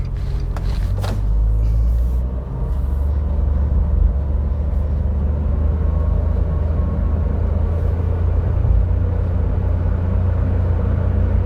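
Inside a Nissan Micra with a CVT automatic, steady low engine and road rumble holds as the car gradually accelerates, droning evenly throughout with no talk.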